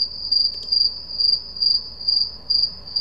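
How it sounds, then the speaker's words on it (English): Crickets chirp as a stock ambience effect, a loud, close, high trill pulsing in regular bursts about twice a second with no other sound. "Try crickets."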